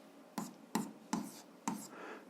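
Pen strokes on paper while writing out algebra equations by hand: four short scratchy strokes, each a quick burst with a brief trailing scrape, spaced about a half second apart, close and fairly quiet, no talking.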